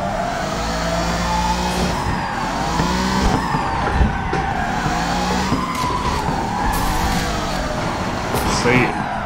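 A drift car at Furidashi slides through corners with loud, sustained tire squeal and skidding over engine noise, with bogging and revving heard up close from inside the car.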